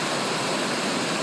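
Wren Lake Falls, a waterfall near Horse Lake running with a strong flow, roaring as a loud, steady, close rush of water with no other sounds.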